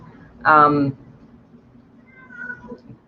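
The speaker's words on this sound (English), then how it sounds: "that's my cat, you probably can hear" A single loud cat meow, drawn out for about half a second, followed by quiet room tone and a faint distant sound.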